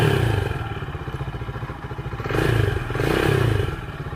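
A RUSI Classic 250 Fi motorcycle engine idles with a steady, throbbing pulse close by, then revs up twice in short swells before settling back.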